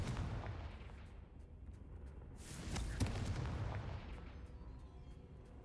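Confringo fire spell from the Hogwarts Legacy video game bursting with a loud explosive boom near three seconds, set over a continuous rumbling background of game effects.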